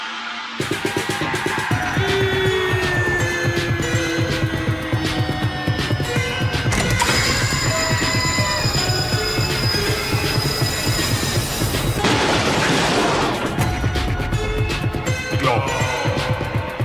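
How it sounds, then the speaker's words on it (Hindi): A train departs with loud rumbling wheels, rhythmic clickety-clack and shrill wheel squeals, a continuous near roar that swells and shifts over the whole stretch. "ट्रेन छूटी"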